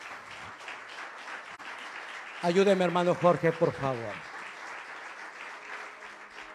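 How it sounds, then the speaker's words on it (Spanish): A church congregation breaks into a short round of clapping for about two seconds, surrounded by a preacher's amplified speech before and after. "Dele un aplauso al Señor."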